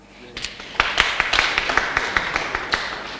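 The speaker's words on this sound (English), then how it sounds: "So let's clap for ourselves for starters." Audience at a launch event in Uganda clapping together, a dense run of sharp hand claps that starts partway in and carries on for about two and a half seconds over soft room noise.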